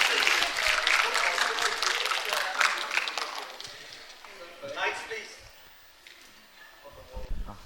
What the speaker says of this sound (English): I request the audiences to give a huge round of applause for the panelists and the guests.